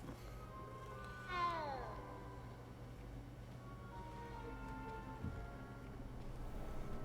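A cat in the Hogwarts Legacy video game meows twice, a drawn-out rising-and-falling call and then a softer one a few seconds later, over a steady low ambient game background.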